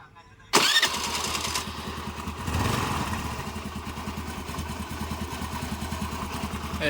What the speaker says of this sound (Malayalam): ഇനിയിപ്പോൾ നമുക്കൊന്ന് സ്റ്റാർട്ട് ചെയ്ത് നോക്കാം